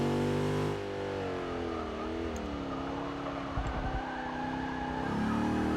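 Range Rover engine in the racing video game Forza 6, a steady loud drone that rises and falls in pitch as the car revs and shifts, close and continuous, with no voices.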